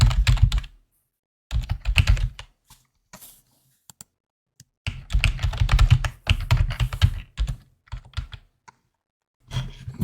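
Typing on a computer keyboard to enter Wi-Fi network details while setting up a home security system: bursts of rapid, close key clicks separated by short pauses, with no talking.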